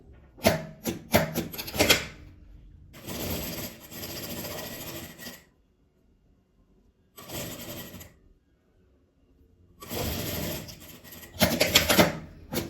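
Fabric seams pass through a sewing machine in separate bursts of rapid rasping stitching, some short and some lasting a couple of seconds, with silent pauses between them. The machine sounds close and dry.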